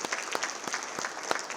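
An audience at a city's state-of-the-city address applauds, a brief, fairly dense patter of many hands clapping at moderate volume, with a few sharper individual claps standing out.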